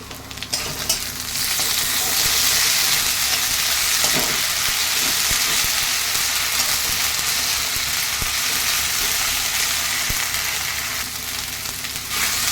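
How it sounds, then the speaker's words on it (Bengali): Ginger-garlic paste frying with onions in oil for a kachki fish chorchori, a loud continuous crackling sizzle that swells after a brief start and holds steady, with faint stirring scrapes, no voices. "আদা রসুন বাটাটা আমার একটু ভাজা ভাজা হয়ে গেছে"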